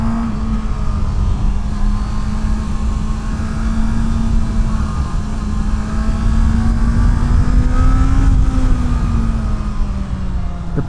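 A Honda CB650R motorcycle ridden on twisty roads, its engine holding a steady, loud drone throughout with a slight pitch rise and fall as the throttle shifts, plus continuous wind rush.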